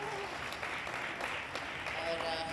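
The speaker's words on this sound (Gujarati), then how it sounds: "બસ થોડીક જ વાર તમારે તાળીઓ પાડવાની છે એટલે ખખડતા રહેજો" An audience at a lamp-lighting ceremony opening a disability arts fair at Vadodara's Akota Stadium claps continuously, a dense, even wash of applause that runs unbroken for the whole stretch.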